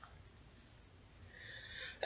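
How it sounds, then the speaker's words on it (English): One person's sneeze, a quiet indrawn buildup followed by a short sharp burst at the very end, heard close in a quiet room. "That's a sneeze of a lifetime."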